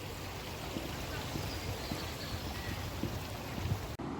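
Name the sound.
river flowing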